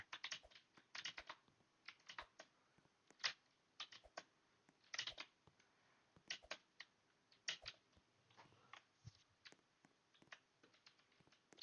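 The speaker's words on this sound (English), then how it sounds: "Someone told me one time that my keyboard noises were ASMR." Computer keyboard typing in irregular bursts of quick clicks, close and fairly quiet, with short pauses between flurries and no talking.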